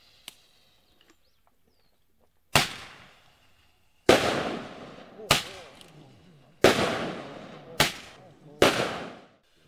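Fireworks set off in an orchard to scare bears away bang out in six loud, sharp blasts spaced a second or two apart, each one echoing and fading, with a few faint clicks before the first.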